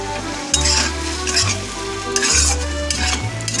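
Okra frying with poppy seed paste and a little water and sugar, stirred steadily in a pan: loud continuous sizzling with repeated scraping strokes of a spatula at a regular pace, close up.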